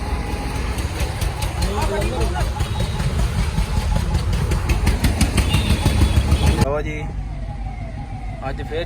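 A Force Urbania van's engine idles with a steady, loud, rumbling drone while voices talk over it, then the noise drops to a quieter level near the end.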